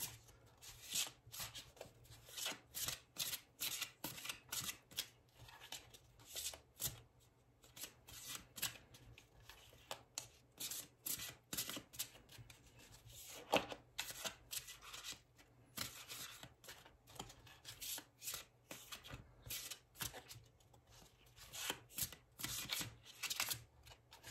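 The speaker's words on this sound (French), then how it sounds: "Je vais vous proposer 3 cartes de ce tarot que j'aime beaucoup" A deck of tarot cards is shuffled over and over, giving rapid riffling bursts in an uneven rhythm with brief pauses, close and fairly quiet, for nearly half a minute.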